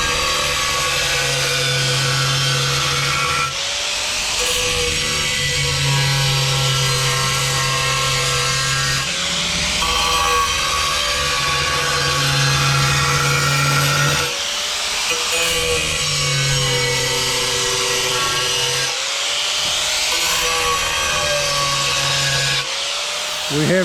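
An angle grinder cuts a round hole in porcelain tile, making a loud, harsh grinding whine that holds steady and then dips and surges in repeated passes of several seconds as the blade works around the curve.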